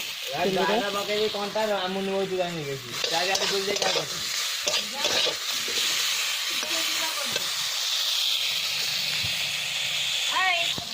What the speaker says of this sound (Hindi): देखंतु बड़ी अच्छी ताटिया रे बिलाती कंटा फल भाजुची